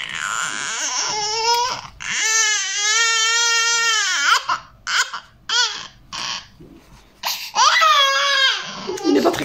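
An infant, unsettled after not sleeping following a bottle, cries loudly and close by in long strained wails broken by short gasping breaths and sobs, with the crying building again toward the end.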